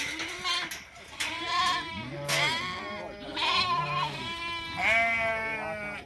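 Sheep on a farm during sheep sorting bleat repeatedly and close by, several overlapping calls rising and falling over a few seconds.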